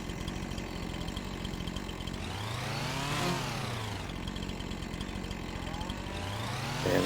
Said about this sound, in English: they definitely put the chainsaw to everything you see